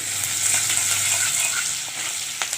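Finely chopped green chillies and garlic sauté in a pan, giving a constant close hissing sizzle. A few light metallic taps from stirring break through, and there is no talking.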